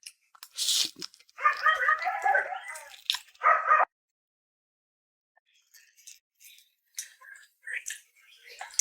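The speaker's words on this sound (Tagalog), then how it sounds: "pasensya na sa mga aso guys, na naririnig niyo yung mga asong ingay." Dogs bark in short scattered bursts nearby, with quieter yips and rustling afterward; no talking is heard.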